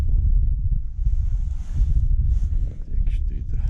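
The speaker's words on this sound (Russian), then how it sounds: "Да, ветерок дует." Wind blows steadily across open ice on Lake Ladoga during ice fishing, a close, rough buffeting hiss with brief dips.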